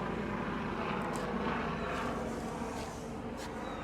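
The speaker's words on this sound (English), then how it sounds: "we gotta let the helo go by there" A helicopter passing over an outdoor workshop where a steel ute fender is being fitted, a steady broad rotor and engine roar holding at moderate distance for the whole stretch with no talk over it.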